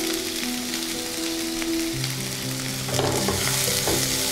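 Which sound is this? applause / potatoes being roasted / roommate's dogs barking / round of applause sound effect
potatoes being roasted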